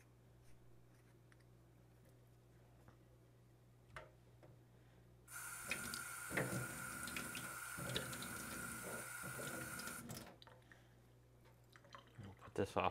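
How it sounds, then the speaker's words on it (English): Tap water runs and splashes in a sink while a CO2 generator's bubble counter is rinsed out, a steady rushing burst of several seconds between quieter handling ticks before and after. "take off the bubble counter and rinse that out"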